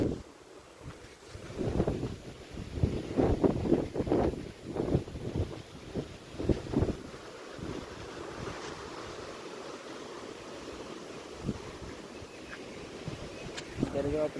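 Gusty cold wind in rainy weather roars against the microphone in uneven bursts, loud and close, with a steady rushing noise underneath.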